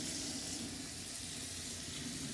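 Tap water runs steadily from a faucet over a whole chicken bound for a smoked beer can recipe, a continuous close, even splashing hiss with no talk.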